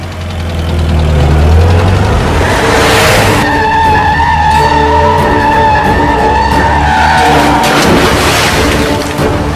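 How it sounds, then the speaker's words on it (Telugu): A car engine in a Telugu action film scene rumbles low, then revs up with a skidding screech and keeps roaring loudly as it pulls away, close and without voices. "అప్పుడు ఒకరోజు కృష్ణ కార్ స్టార్ట్ చేశాడు."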